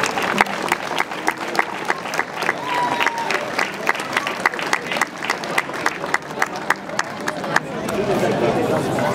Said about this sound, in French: Et je vous propose de les applaudir pour les remercier.